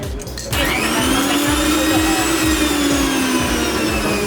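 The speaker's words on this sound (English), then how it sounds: "So get to the blender very fast." A blender whirs loudly and continuously after a brief quieter start, a steady motor drone with a slight rising and falling pitch.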